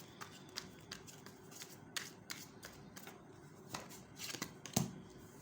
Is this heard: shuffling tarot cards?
yes